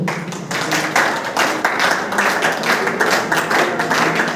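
A crowd of people claps steadily at a school graduation farewell, dense overlapping applause sustained and fairly loud throughout.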